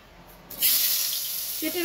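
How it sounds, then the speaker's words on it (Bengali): Potatoes dropped into hot oil burst into a sudden loud sizzle halfway through, a bright, steady crackling hiss that carries on to the end, close up in a home kitchen. "তেলটা আমার গরম হয়ে গেছে, আলুগুলোকে এতে আমি ছেড়ে দেব।"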